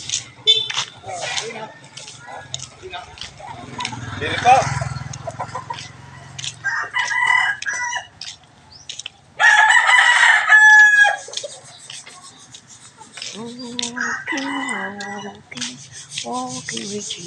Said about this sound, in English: Thank you, Jesus, for the birds.